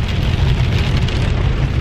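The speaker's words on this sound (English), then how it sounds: "So I'm on the road, it's rainy." Steady rain patters on a car while it drives along a wet road, a dense constant hiss with low road rumble underneath and no talking.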